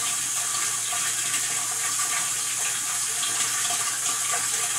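A home water softener tank draws brine with a steady, even hiss of moving water that holds level throughout, with no voices.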